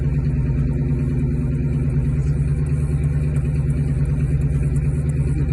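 A car engine idles steadily with a low, even rumble and a constant hum, no revving, running continuously throughout.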